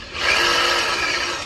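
A drill bites into layered sheet metal during plug weld preparation, giving one short, close, steady high-pitched grinding whir that lasts about a second, with no talking.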